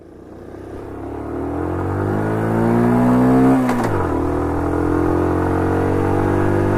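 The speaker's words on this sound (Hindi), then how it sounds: "आप एक तो इतनी मोटरसाइकिल तेज चलाते हैं" A motorcycle engine revs up loudly and steadily, its pitch climbing then dropping sharply as the bike speeds along, staying close and continuous throughout with no talk.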